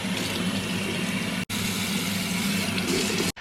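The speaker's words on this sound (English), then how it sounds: "So now I'm gonna get some water and start wiping all this junk off." Water pours and gushes steadily from a tap or hose onto a Nissan SR20 engine being cleaned, a close, loud continuous splashing broken by two brief cutoffs, with no voices.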